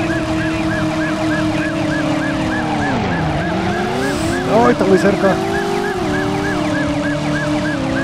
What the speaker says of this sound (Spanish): Oh no, patrullas,